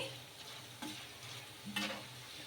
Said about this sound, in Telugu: ఇవి కొంచెం క్రిస్పీగా అయ్యే వరకు ఆయిల్లో ఫ్రై చేసేసుకోవాలి